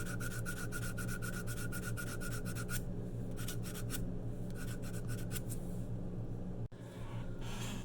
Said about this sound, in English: now comes the time to sand this bugger